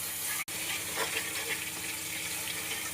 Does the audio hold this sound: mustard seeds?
yes